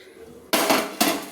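Boiled spinach tipped into a basket lands with two sudden, loud clattering splashes in quick succession, near and without talk.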